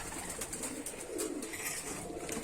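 Two young foreign-breed pigeon chicks coo softly in a loft, low throaty murmurs repeating close by over faint background noise, with no speech.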